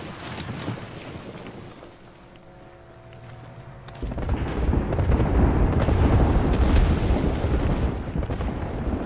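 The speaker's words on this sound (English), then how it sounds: "Airstrike danger close" An airstrike in Apex Legends builds from a quiet lull into a sustained rumbling barrage of explosions, loud, heavy and rolling for several seconds.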